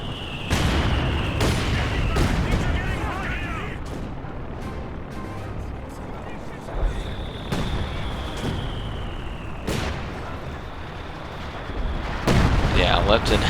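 Artillery shells land repeatedly in the real-time strategy game Company of Heroes 2, with loud booming impacts at irregular intervals amid a steady battlefield rumble and a faint high whistle, while a commentator talks over the action.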